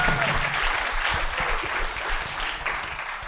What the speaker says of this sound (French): Moi, je veux qu'on applaudisse Brossard ce soir.